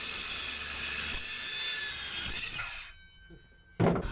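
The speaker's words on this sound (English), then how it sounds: "So we're cutting 5 of these 2x4s into 11 inches in height." A saw cuts through 2x4 lumber boards being trimmed for a truck bed camping platform, a loud steady rasping grind for about three seconds that stops, followed by a short clatter of wood near the end.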